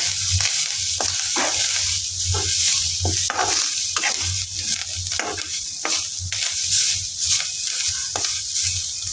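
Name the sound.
grated coconut and onion lightly roasting in pan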